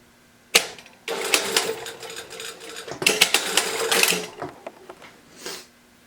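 Sewing machine basting a dress bodice at a quarter inch, with a single clunk and then bursts of rapid, close mechanical stitching that start and stop and rattle unevenly, ending in one short final run.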